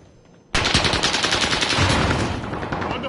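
Rapid automatic gunfire in a video game shooter bursts in abruptly after a quiet moment, a loud dense barrage that continues without pause.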